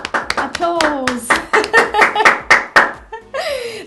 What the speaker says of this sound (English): That's my lovely husband producer in the background giving an applause there.